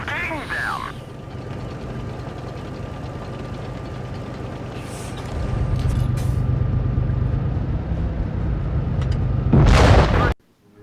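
Heavy tank cannon fire and booming engine rumble in the mobile game World of Tanks Blitz, a sustained loud low roar building to a sharp blast near the end before cutting off, with no talk.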